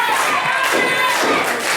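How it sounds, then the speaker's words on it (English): Wrestling crowd in South River roaring and chanting at an Elite Dangerous Uprisings independent show, a steady loud wash of voices with swelling cheers throughout. "Crowd here in South River solidly behind Sean Damage McNelis."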